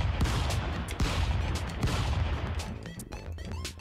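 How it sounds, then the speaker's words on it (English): A shotgun fires repeatedly in the Stick Fight video game, with sharp blasts and clattering bursts in a rapid, chaotic barrage among game noise, loud and close. "Shotgun."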